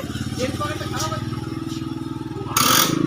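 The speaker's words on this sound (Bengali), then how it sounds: "কি আওয়াজ হলো গো বাইকে?" A motorcycle engine runs close by with a fast, even putter that pulses steadily, and a louder burst of noise comes near the end. Voices are heard faintly in the background.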